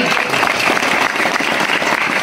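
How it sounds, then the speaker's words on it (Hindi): Audience at a Hindu religious discourse (Bhagwat katha satsang) applauding, dense continuous clapping filling the whole short stretch at steady loudness. "ताली थोड़ी जोर से बजाना।"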